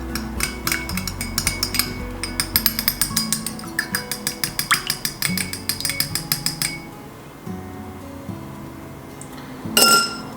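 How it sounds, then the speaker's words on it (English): A spoon stirs liquid in a glass, giving a rapid series of bright clinks against the glass in a rhythmic run that stops abruptly, followed by one last louder clink near the end. "Let's give it a stir."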